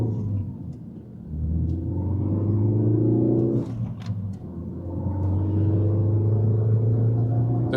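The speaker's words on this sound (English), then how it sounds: "The turbo's boosting" Ford Focus ST, a salvage-auction rebuild, driving down a road with its turbo boosting: a steady loud engine drone with a rising rumble that dips briefly mid-drive and then climbs again, with no talking.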